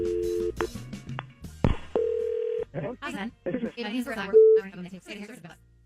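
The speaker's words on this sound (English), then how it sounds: "Let's make the phone call" Telephone keypad tones and short electronic beeps as a radio show places a call on air, several separate tones mixed in among studio voices speaking.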